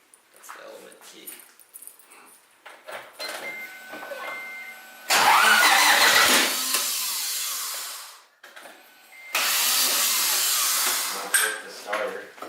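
A car's starter motor cranks the engine in two loud, sustained bursts, each a few seconds long, with short pauses between them. A dog whimpers and voices talk in the quieter gaps.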